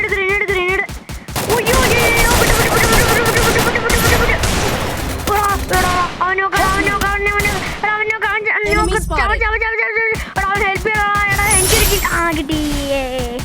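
Rapid bursts of gunfire from the video game Free Fire crackle in dense, repeated volleys with occasional heavier blasts, loud and continuous, while players chatter over the shooting.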